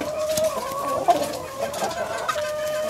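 A village hen and green junglefowl cluck in short, repeated calls close by, with a steady background hum and occasional scuffling during a bird-handling session.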